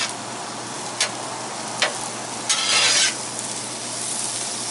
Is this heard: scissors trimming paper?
no